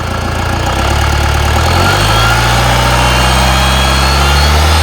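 A Mahindra Thar 4x4 engine idling loudly up close, then revved so the drone climbs and holds at a higher, steady pitch.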